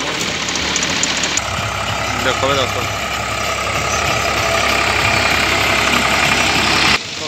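A 2013 Indofarm 3055 NV tractor runs a Shaktimaan 7-foot rotavator in a farm field. The engine is a steady, loud, close drone throughout while someone talks over it.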